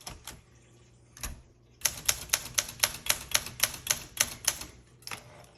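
Keys striking on a 1966 Olympia SM9 manual typewriter: a few scattered taps, then a quick, even run of about a dozen crisp, close keystrokes, followed by one last strike.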